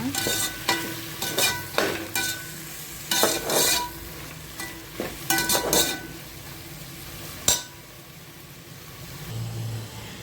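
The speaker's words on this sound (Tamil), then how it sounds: "வெங்காயம் தக்காளியோட சேர்த்து நல்லா வதக்கிக்கோங்க." Mushrooms, onion and tomato sizzle softly in a pan for biryani while a spoon scrapes and stirs in repeated sharp strokes, with a low hum in the background.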